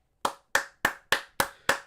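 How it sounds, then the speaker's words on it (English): Six separate hand claps spaced evenly about a third of a second apart, close and crisp with nothing else heard, given as a round of applause for racing driver Shane Van Gisbergen after a top-10 finish at an oval. "Everyone, round of applause for SVG."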